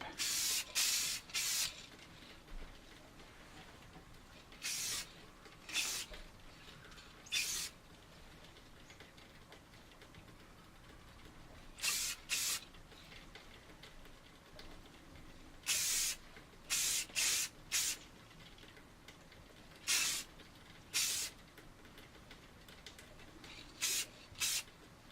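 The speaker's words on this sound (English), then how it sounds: "you want to spray so you don't see the primer coming through" Repeated hissing blasts of a spray can applying gloss paint to an AMT U.S.S. Enterprise model kit, close and fairly loud, arriving in clustered bursts with short quiet gaps between them and no talking.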